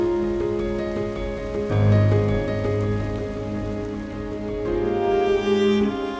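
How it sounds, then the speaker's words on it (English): Rain patters steadily during a Patagonia trout fishing trip by rivers and lakes, a continuous close wash of drops with a musical drone underneath. "Today, we've got rain on and off."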